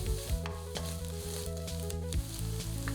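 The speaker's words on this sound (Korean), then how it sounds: "베이컨이 충분히 익었으면 밀가루를 넣어 3분 정도 고소하게 볶습니다." Bacon and flour stir-fried in a pan, a steady soft sizzle under a sustained musical tone, with faint scraping of the spatula throughout.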